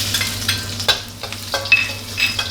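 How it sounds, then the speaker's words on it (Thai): Garlic stir-frying in hot oil in an iron wok gives a steady sizzle, with the clack and scrape of stirring strokes repeating every half second or so, close and fairly loud with no talk. "เราใช้กระทะเหล็กมาผัดก็จะทำให้เราผัดอาหารได้ความหอมอร่อยนะครับ"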